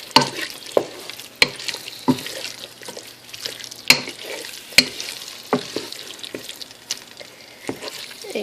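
Kidney beans being stirred into a thick, sweet and spicy Texas beef chili in a pot, giving a series of close, sticky scraping and squelching sounds at irregular intervals over a soft background simmer.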